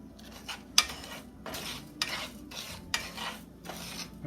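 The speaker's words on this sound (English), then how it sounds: "use a spatula to slowly fry it, to stir fry it" Rice and crushed corn stir-fried dry with a spatula in a pan: repeated rhythmic scraping strokes, roughly one every half second, with a sharp metallic clink early on, close and clear with no talk.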